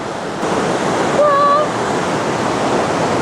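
A powerful glacier river in New Zealand roars beneath a suspension bridge, a continuous loud broadband rush, with a brief high whistling tone partway through.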